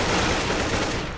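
A short, dense burst of rapid automatic gunfire from the shooter game Counter-Strike: Global Offensive, loud and continuous for about a second, with no talking over it.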